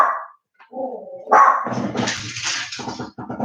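A small pet dog barks several times in an indoor home setting, with sharp, close yips and a short growling whine between them, followed by a quick run of rapid barks that is loud and near, with no talking over it.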